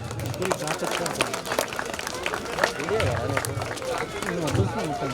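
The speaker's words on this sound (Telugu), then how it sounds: "క్లాప్స్." A crowd at a Ganesh celebration prize-giving applauds, the clapping running steadily throughout and mixed with loud crowd chatter and a voice speaking over it.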